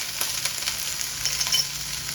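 Okra frying in a pan with curry leaves, salt and turmeric sizzles with a steady bright hiss, while a spoon stirs it with faint scraping and clicks.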